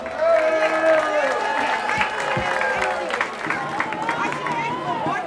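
A crowd at the Hardenberg Avondvierdaagse and Klepperstadtocht prize giving claps steadily, a dense, fairly loud wash of applause with tonal music and chatter over it.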